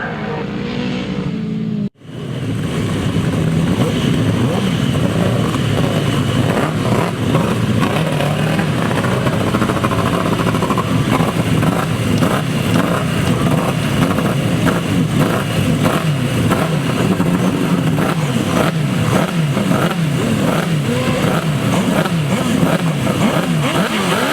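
Grasstrack motorcycle sidecars racing at an August meeting at Torry Hill in 2007, a loud continuous snarl of several engines revving and roaring together after a brief cut, sustained throughout without let-up.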